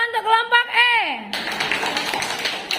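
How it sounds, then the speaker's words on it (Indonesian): A class of students claps for a group of classmates, with a brisk burst of many hands applauding in the room, starting right after someone speaks and continuing steadily to the end. "Tepuk tangan untuk kelompok E"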